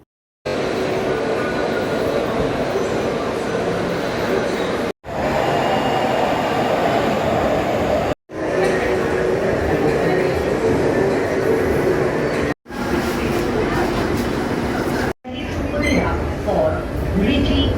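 A Kolkata Metro train runs at Masterda Surya Sen station, with a loud continuous rumble and wheel rush cut into several segments, faint squeals, and talk and announcements over the noise.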